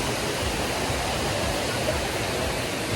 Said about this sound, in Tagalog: Dito kami sa falls.